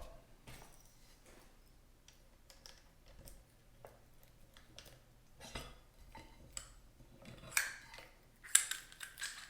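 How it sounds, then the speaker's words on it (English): A three-part trailer pot lock with an outer shell being opened, giving a series of sharp metallic clicks and clanks that grow louder toward the end, close up with no talk. "This is the pot lock here. Let's open her up."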